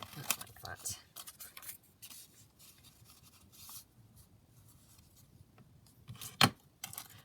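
Scissors snip through paper while crafting banner paperclips, a few close, crisp cuts and rustles with one sharp snap near the end, with a voice talking quietly underneath.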